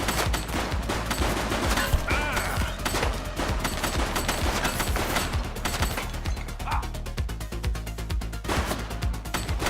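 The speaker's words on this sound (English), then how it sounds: "Shots fired!" Gunshots in the video game The Precinct, a dense, loud burst of rapid automatic fire with repeated cracks and booms filling the whole stretch, with faint voices at moments.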